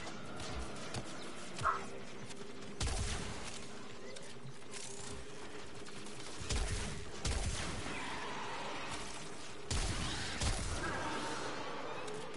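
Video game turrets firing in repeated bursts of sharp, rattling shots that recur through the stretch, mixed with mechanical clicking and background game noise.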